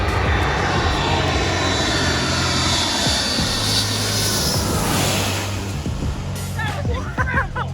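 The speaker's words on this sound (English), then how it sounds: "the first plane's coming in" Airliner landing low over Maho Beach on St. Maarten, its engines a loud, continuous roar that fills the whole stretch and eases slightly near the end, with faint voices underneath.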